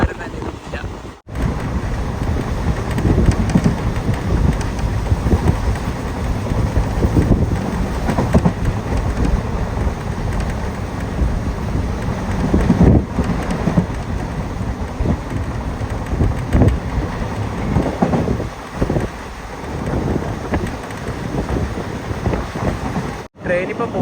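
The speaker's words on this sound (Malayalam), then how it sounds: "ബോഡി നായ്ക്കന്നൂർ പാസഞ്ചറിന്റെ അകത്തെ കാഴ്ചയാണിത്" Inside the Bodinayakkanur passenger train, a continuous loud rumble and rushing wind fill the carriage as it runs, steady throughout with brief dips.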